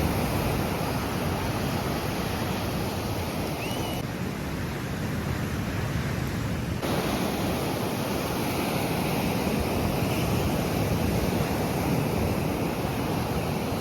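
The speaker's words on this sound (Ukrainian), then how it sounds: "Сьогодні такі хвилі." Waves rolling onto the Sanzhiika beach, a steady broad roar of surf with wind noise, loud and unbroken with no voices.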